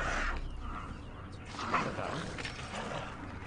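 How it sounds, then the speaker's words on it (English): A hyena in the game Assassin's Creed Origins gives barking, yipping calls amid a dense, noisy outdoor game soundscape, moderately loud and continuous for a few seconds with no speech. "Did I just hear something bark?"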